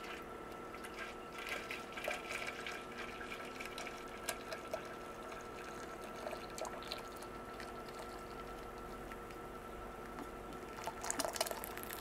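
Water poured into microwave-warmed coffee to dilute it, a soft trickling and splashing stream that swells near the end, quiet and close with no voices.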